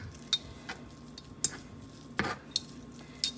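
Braised birria meat being pulled apart with a fork, scattered light clinks and scrapes of metal against a dish at an irregular pace, close and fairly quiet.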